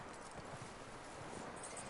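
Horse hooves clip-clop in Red Dead Redemption 2, a short run of muffled, steady hoofbeats under a broad ambient background.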